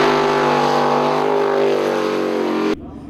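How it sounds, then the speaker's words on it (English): High-performance V8 jet-driven superboat racing engines idle loudly and steadily, a thick, rich rumble with strong harmonics that holds for nearly three seconds before cutting off abruptly into near silence. "the drivers hit the starter buttons on their high-performance racing V8 engines and sent the jet units pumping masses of spray into the air"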